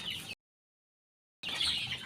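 Free-range village chickens kept in a backyard pen cluck and chirp in two short bursts, with a stretch of silence between them.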